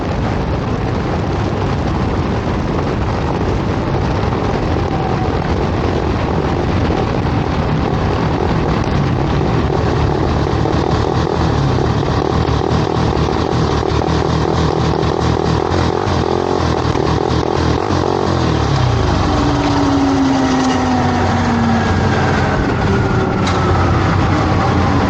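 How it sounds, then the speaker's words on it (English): A loud, continuous roar of a dragster engine at a drag racing event fills the whole stretch, with a rising whine sweeping past near the end. "Nick Mugridge, 10:09 with his dragster going alongside Ryan Garrett."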